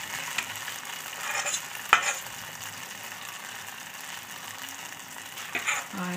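Ghevar batter frying in hot oil gives a steady, close sizzle with a few sharp utensil clinks. No one speaks.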